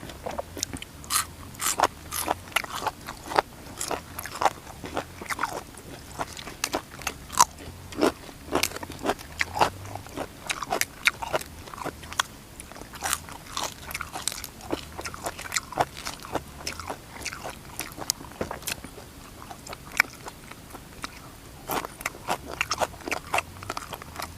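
Crunchy bites and chewing of a spicy Thai seafood salad with squid tentacles and pickled shrimp, rapid irregular crackly crunches close to the mic, continuous throughout with no talk.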